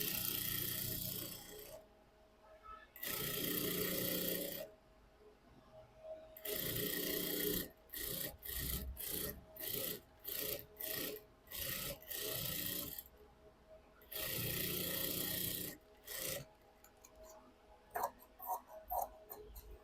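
Blouse fabric fed through a sewing machine, with bursts of steady whirring stitching broken by pauses, then a run of short rapid stop-start stitches, all close by with no talk.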